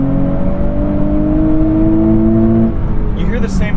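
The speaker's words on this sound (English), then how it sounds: "You hear the same sort of exhaust whooshing that you do in a Ford Explorer." A 2023 Nissan Z sports car engine with six-speed manual drones steadily from inside the cabin, its pitch slowly climbing under a soft exhaust whoosh before easing off.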